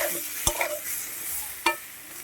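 Eggplant chunks seasoned with turmeric and salt frying in oil, a steady sizzle broken by two sharp utensil clinks against the pan, close and moderately loud with no talking.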